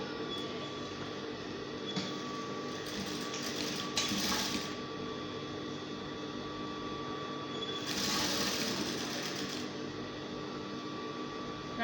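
Sewing machine stitching crinoline onto a peplum gives a faint, steady mechanical whir with a thin tonal hum, swelling briefly in two short bursts of faster running.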